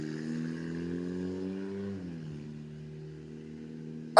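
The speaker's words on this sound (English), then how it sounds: "I really think they got a lawnmower engine in that car." A car engine with a rough, buzzy, lawnmower-like tone idles steadily, its pitch rising slightly then dropping and settling, followed by a sudden loud clatter at the very end.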